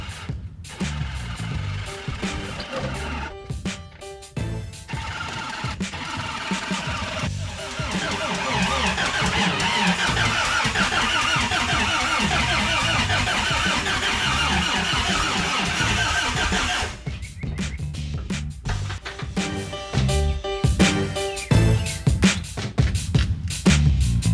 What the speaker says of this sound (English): I can get back in there, turn the key, and drive this thing into the shop.